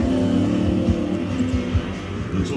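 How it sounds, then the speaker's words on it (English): A Maserati with a V8 engine and a light carbon fibre and aluminium body accelerates hard, its low engine note droning steadily and fairly loud throughout, heard from a television playing in a room. "Couple that to a super light carbon fibre and aluminium body, and you end up with a car that accelerates like it's fallen off a cliff."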